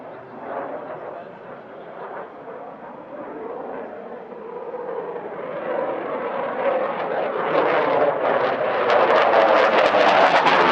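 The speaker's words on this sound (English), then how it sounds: "performing now at sunset, the exceptional Rafale solo display" Dassault Rafale fighter jet flying a solo airshow display at sunset, a roaring engine that swells steadily louder and rougher as it nears, ending in a loud, crackling blast.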